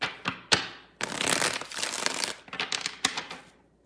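Tarot cards are shuffled by hand, a few sharp riffles and snaps followed by a longer papery shuffling burst and more crisp flicks, close and fairly loud with no talking.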